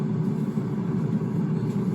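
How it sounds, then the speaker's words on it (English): Steady low hum and rumble from an air fryer, or cassoulet cooker, keeping food warm, a continuous droning whir at moderate level with no speech over it. "the noise you can hear from the cassoulet is just the other food keeping warm"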